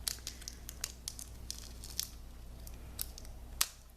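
Scissors snipping a paper pear shape out of craft packaging, a quick run of close, crisp cuts with paper crinkling between them.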